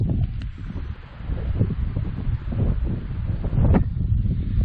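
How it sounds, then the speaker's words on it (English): Wind gusts across an open backcountry hiking trail in Ontario, a continuous low rumbling buffet with rustling swells that rise and fall, close and fairly loud, with no voices. "Wind's really picking up."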